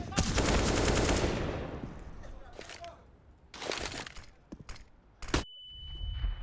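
Rapid AK-47 bursts from a Counter-Strike match ring out in several clustered volleys, loud and close at first and then in shorter, sharper bursts.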